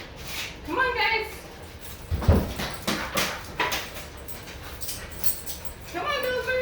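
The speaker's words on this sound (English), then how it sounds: "I'm gonna let the dogs in" Dogs whimper and whine in short, rising, high cries as they are let into a house, with a door sliding and thudding and light footsteps, and someone talking throughout.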